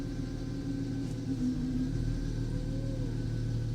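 A Mercedes car engine idles with a steady low rumble as it is shifted into reverse, holding a constant drone with a slight tonal rise near the end and no speech.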